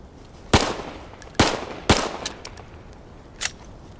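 Gunshots in the survival game DayZ, three loud, sharp, echoing cracks spaced about a second apart, followed by a few fainter shots, close and alone with no talking.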